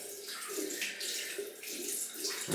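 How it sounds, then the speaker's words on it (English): Hot water runs steadily from a tap, a continuous close hiss and splash filling the whole stretch with no voices, used for warming a Muhle Rocca razor before shaving. "I'm going to heat the razor up now, but I'm going to heat some hot water"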